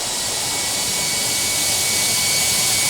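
Loud, steady roar of jet aircraft engines in the Tower! Simulator 3 air traffic control game at Washington in wet conditions, a continuous broadband rush with a faint whine, no talk over it.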